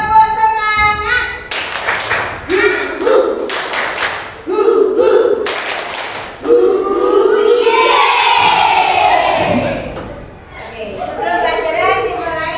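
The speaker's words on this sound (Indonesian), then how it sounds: "Tepuk semangat" Indonesian classroom doing the rhythmic tepuk semangat spirit clap: bursts of loud group clapping in set patterns, mixed with children's chanting voices and shouts, filling the room close by.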